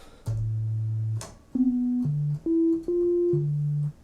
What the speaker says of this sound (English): here you have a sine wave